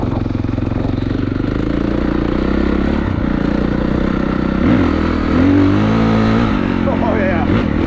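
Honda CRF450RWE Works Edition race dirt bike from 2023, engine warming up with a steady rattling idle and several sharp revs in the middle, while a person talks over it.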